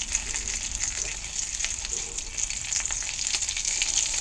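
A patty frying in a cast iron pan inside a greenhouse gives off a steady, close sizzle with faint crackles and small pops throughout, without any talk.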